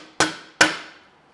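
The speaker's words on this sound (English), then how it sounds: "With a hammer." Two sharp hammer strikes land in quick succession on BMW E39 540i suspension parts, each a loud metallic bang with a short ringing decay, close by.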